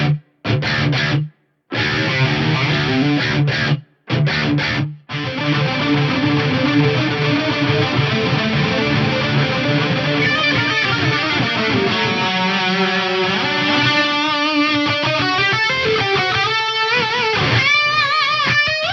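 Electric guitar runs through a Fractal effects unit with the reverb turned up: thick distorted chords cut off in short bursts, then a long sustained passage with a lingering reverb tail, loud and upfront.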